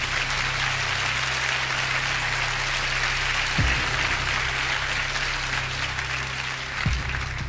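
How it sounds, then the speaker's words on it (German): Audience applause at a party magician's show, a steady crowd clapping at moderate level for the whole stretch, with a low hum beneath and a couple of brief thumps. "Danke für den Applaus."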